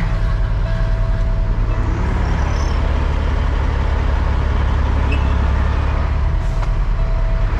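A truck maneuvering and backing its nose underneath a trailer, a loud steady diesel engine rumble close by with a faint tonal whine and a brief hiss near the end.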